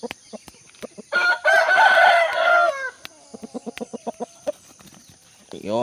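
A Burmese Aseel rooster crows loudly and close in one long, ragged call, followed by a string of short, rhythmic clucks in a backyard setting.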